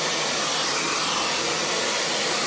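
Hair dryer blasting steadily at close range, aimed under a brush at the roots of hair during a blow-dry, a loud continuous rushing roar with no break.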